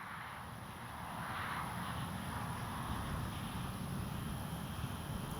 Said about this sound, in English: What a great flying little plane, though.